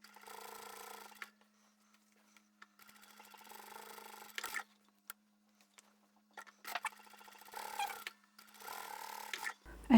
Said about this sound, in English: So we'll top stitch with all the other fabric out of the way.